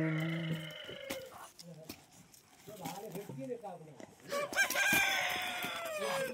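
Rooster and duck fighting, with harsh squawks, clucks and flapping bursts rising and falling over several seconds, close and fairly loud, while people talk throughout.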